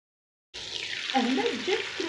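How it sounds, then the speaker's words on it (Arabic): Chicken pieces drop into hot oil and burst into a loud, steady sizzle that starts abruptly after a moment of silence, with bubbling crackle continuing close up. "نخلو الدجاج تاعنا يتحمر شوية"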